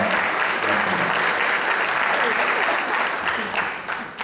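Sustained crowd applause fills the room at a football club's welcome party for new members, honoring the club secretary; dense clapping holds steady and close before tapering slightly at the end.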